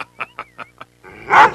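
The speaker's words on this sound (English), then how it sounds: "Now that's a dog." An animated dog gives five quick, evenly spaced barks or yips, close and fairly loud, followed by a louder growling burst at the end.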